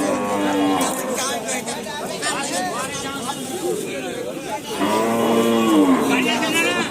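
An Indian Gir-cross cow moos loudly in long drawn-out calls, one early and another near the end, with people chattering in the background.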